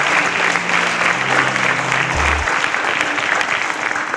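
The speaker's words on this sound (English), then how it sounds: "A round of applause for Kende, please." A game show audience claps steadily and loudly throughout, a dense, continuous round of applause with no pauses.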